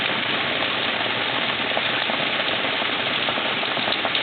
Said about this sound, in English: just had a little downpour